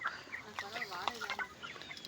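Chickens cluck and murmur close by on a poultry farm in a coconut grove, a quiet, busy chatter of several birds with no talking.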